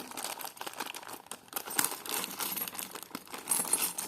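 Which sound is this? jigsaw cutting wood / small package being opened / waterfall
small package being opened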